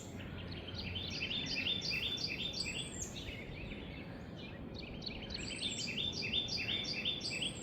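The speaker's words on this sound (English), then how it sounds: "the bird song was just so loud out here" Loud, continuous birdsong fills an early-morning garden, with repeated bright chirping phrases over a steady low outdoor hum.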